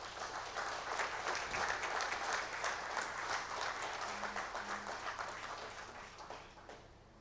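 An audience at a silver jubilee celebration applauds to welcome a guest, a sustained, even roar of many hands clapping in a hall that continues for several seconds and then gradually thins and fades out.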